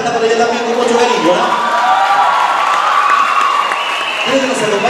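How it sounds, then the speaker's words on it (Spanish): Audience at a ceremony in Navarra applauding and cheering, a dense, steady wash of clapping and crowd voices that holds at full level for the whole stretch. "Un aplauso a toda la gente de la ciudad de la Navarra"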